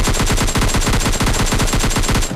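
Rapid automatic gunfire from the mobile shooter game PUBG Lite, a loud, dense string of about twenty evenly spaced shots fired in quick succession with no pauses.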